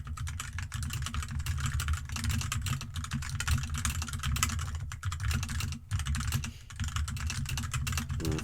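Fast, dense typing on a computer keyboard, close and loud, with continuous rapid key clatter and brief pauses, over a low steady background hum.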